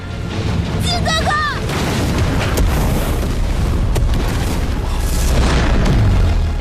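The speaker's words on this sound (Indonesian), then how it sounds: "pertarungan tersebut membuat kapal mereka meledak" A ship explodes in a loud, sustained rumbling blast with a deep boom rolling on, briefly overlaid by a high whistling, rising tone early on.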